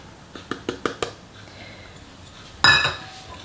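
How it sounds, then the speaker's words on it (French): A spoon clinks against a bowl in five quick, evenly spaced taps while oregano, garlic powder, salt and pepper are mixed, followed by a brighter, louder metallic clatter after a short pause. "Et il suffit de mélanger."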